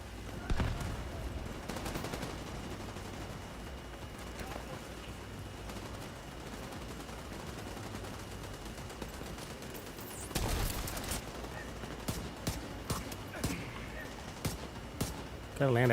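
Gunfire in The Division 2 crackles through the scene, with a dense volley opening it, steady combat noise behind, and a loud burst near the middle, followed by scattered single shots toward the end, while a voice talks over it.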